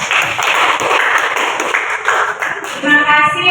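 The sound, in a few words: audience applause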